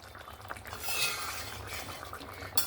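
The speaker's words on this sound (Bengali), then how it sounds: "এবার আমি ঢাকনাটা খুলে নিচ্ছি" A cooking pot's lid is lifted off a simmering chela fish and eggplant curry, giving a brief metallic scrape and clink over a soft, steady bubbling hiss, with a sharper knock near the end.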